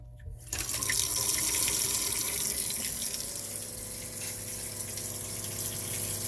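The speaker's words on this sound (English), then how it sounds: "And then you can hear the pump running." A new fresh water pump in a Jayco camper runs with the tap open, giving a steady, loud rush of flowing water that starts abruptly after a brief quiet moment and continues without a break.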